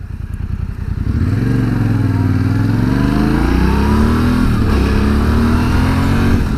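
A 2020 Yamaha Tenere 700 motorcycle engine drones steadily and loudly while riding, its pitch rising and falling through gentle throttle changes after a brief quieter start, with no one talking.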